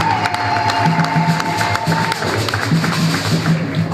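An audience at a ceremony cheering and applauding, a loud, dense crowd roar with shouting voices and a sustained tone running through the first half.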